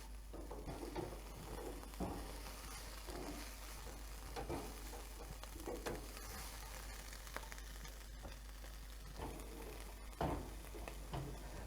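Bacon frying in a pan gives a steady, close sizzle with scattered crackles and pops throughout, with no talk.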